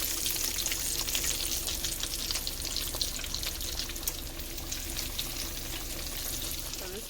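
Chicken frying in hot oil, a constant crackling sizzle with scattered pops, close and steady, no talking.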